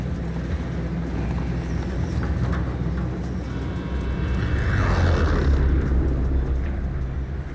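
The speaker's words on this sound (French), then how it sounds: "Cet avion de mort là." Propeller airplane engine droning steadily in a battle royale video game, a continuous loud hum that swells slightly toward the end with a passing whoosh.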